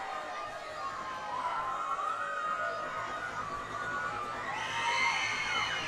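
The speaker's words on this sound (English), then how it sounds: "And you can just hear the crowd." Crowd at a girls middle school basketball tournament game, a steady roar of voices and cheers throughout, swelling with higher shouts and whistling tones near the end.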